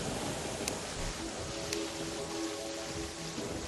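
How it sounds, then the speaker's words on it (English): Steady rain falling in the video game Terraria, a soft, even hiss of drops that stays constant and fairly quiet throughout, with no talk over it. "Raining. Yay."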